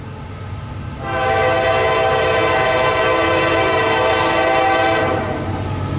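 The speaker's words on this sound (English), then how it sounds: "looks like we got us an intermodal train" A northbound CSX intermodal freight train rolls past in Glendale with a loud, sustained horn blast lasting several seconds over the rumble of rail cars.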